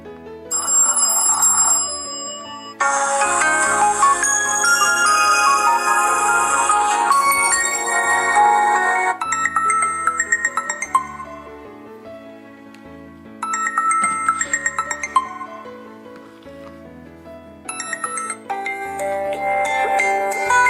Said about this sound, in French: C'est simplement pour vous faire écouter la puissance sonore des sonneries.